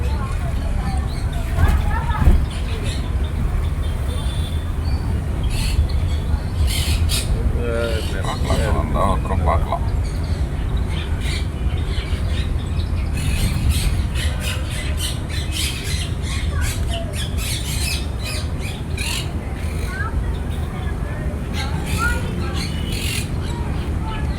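Loud, busy chorus of birds squawking and screeching over one another in an aviary at a bird park in Tiruchirappalli, with people talking amid the din.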